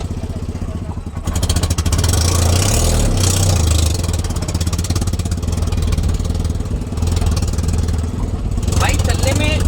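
A Tata Nano's small engine drones loudly and steadily with a coarse, throbbing pulse, close by and continuous throughout while it drives.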